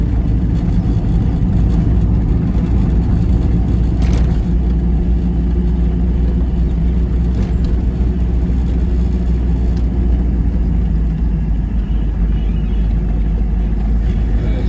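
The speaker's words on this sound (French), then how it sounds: "Il y a de la circulation." Road traffic in the town of Pont de Rouen, heard as a loud, steady, low engine rumble that holds unbroken throughout, as if heard from within or right beside a moving car.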